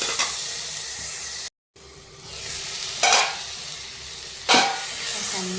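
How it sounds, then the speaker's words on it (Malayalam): Onions and green chillies fry in a pan for chicken curry, a steady close sizzle that cuts out briefly, then returns with two louder hissing surges as the mixture is stirred. No voices are heard. "ഇനി നമുക്ക് സവോളയും പച്ചമുളകും കൂടി ഇട്ട് കൊടുക്കാം. ഇത് നന്നായിട്ട് മൂത്തെടുക്കാം."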